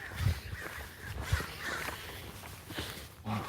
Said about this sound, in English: these birds are a little too excited